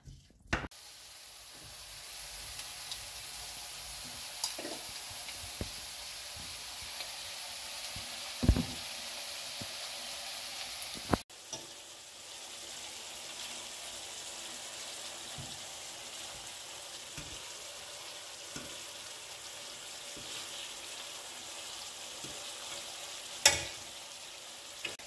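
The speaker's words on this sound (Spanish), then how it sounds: "vamos a esperar que esta cebolla se pochen un poquito" Onion with bay leaves gently frying in a pan, a soft, steady low sizzle heard close up, with a few light knocks and clinks now and then.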